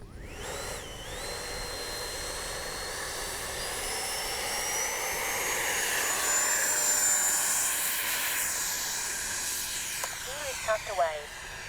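A 70mm electric ducted fan RC model of a JAS-39 jet flies past as a steady, loud high-pitched whine and rushing hiss, rising and falling in pitch as it passes, with a few brief clatters near the end.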